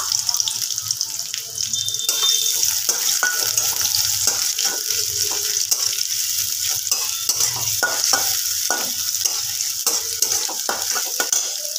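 Chopped onions frying in hot oil and ghee for a soybean curry, giving a loud continuous close-up sizzle broken by frequent stirring clicks and scrapes.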